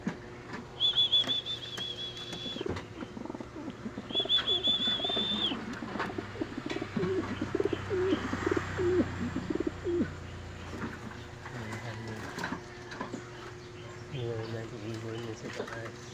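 Pigeons or doves cooing from a power line above, in a morning outdoor setting, with soft repeated coos under steady ambient noise and people talking nearby.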